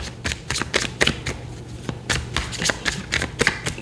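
Tarot cards are shuffled close by in quick bursts of crisp riffling and flapping, with a few short pauses between handfuls and no talk.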